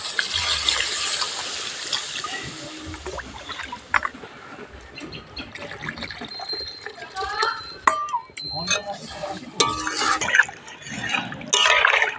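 Water splashes and pours into a hot pan of fried potatoes and spices for a papad curry, a busy, sizzling wash of liquid sound that carries through the whole stretch, with brief sharper spurts near the end.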